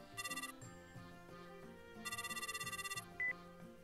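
A telephone rings during a call in a Japanese video game, two bursts of bright trilling electronic ringtone separated by a pause, set against soft background music and a short beep near the end.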